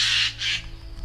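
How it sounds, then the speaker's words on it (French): A Eurasian jay gives two harsh, raspy squawks in quick succession, loud and close, each lasting about a quarter second, with no other sounds around them. "Je vous mettrai dans la vidéo un cri de geais"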